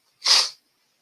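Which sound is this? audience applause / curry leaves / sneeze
sneeze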